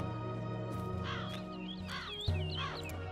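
A crow in the video game Dreamfall Chapters caws three times, evenly spaced and close, over a low steady ambient drone with a soft thud partway through.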